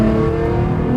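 A 1500-horsepower Nissan GT-R engine pulls into boost with a loud, steady, droning roar that holds close and constant throughout, with no voices.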